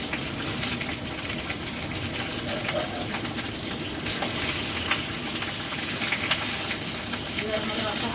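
Food fries in hot oil in a pan during home cooking of a dinner meal, a loud, dense, continuous sizzle and crackle that stays steady throughout.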